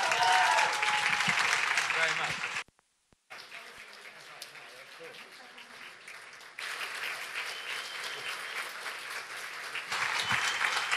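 A New York City audience at a radio station's intimate session applauds to welcome a singer: continuous crowd clapping with a brief drop-out, then resuming at a lower level before rising again.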